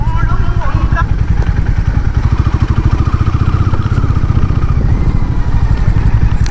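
Hero Maverick 440 motorcycle engine running on a test ride, a loud steady low throb with pulsing firing rhythm that holds through the whole stretch, with someone talking over it.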